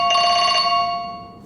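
A telephone rings up close, one loud bright buzzing trill that stops after about half a second and then fades away.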